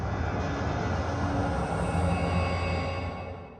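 Sustained, heavy rumbling hit effects from an Asian-inspired game soundtrack, with dense low tones and droning upper harmonics that hold steady for several seconds before fading slightly, heard alone without talk.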